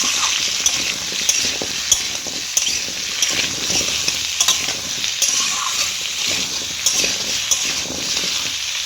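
Potato and pumpkin chunks frying in a pan give a steady, close sizzle, with light scraping strokes of a utensil recurring every second or so throughout.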